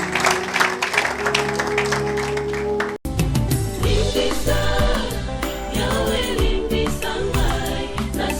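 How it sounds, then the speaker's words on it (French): A church congregation applauds at a service, sustained clapping from a crowd that runs throughout, mixed with music and a brief cut partway through. "Acclamez pour la gloire de notre Dieu"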